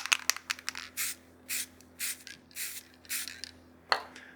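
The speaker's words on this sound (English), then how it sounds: "just spray just the ends where they were being covered by our centers" Finish coat sprayed onto the ends of a freshly turned wooden baseball bat, a series of short, hissing aerosol bursts, close and fairly quiet, with a few light clicks between them.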